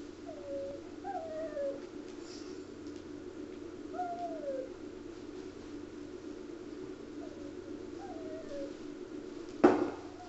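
Soft, repeated cooing calls from a bird in the video game Resident Evil 4, several short falling notes spaced a few seconds apart over a low ambient hum, ending with a sharp thud.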